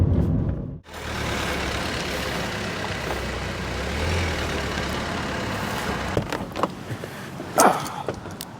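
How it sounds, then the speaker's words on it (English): A 2010 Renault Grand Modus dCi diesel with an automated manual gearbox drives along with a steady, smooth hum of engine and road noise, and a few small knocks and clicks near the end. "That is the Renault Grand Modus. Very interesting car to drive, and really quite a smooth transmission."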